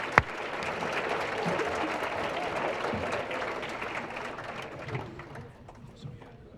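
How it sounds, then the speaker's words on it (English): An audience at a high school sports banquet applauds, a full, sustained round of many hands clapping after a sharp opening knock, with voices underneath, gradually thinning and fading toward the end. "So thank you for everything. And thank you, ladies. Round of applause."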